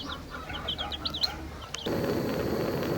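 A hen among her chicks gives off a quick run of high, thin peeps and chirps up close, then a sudden steady rush of broadband noise takes over and buries them.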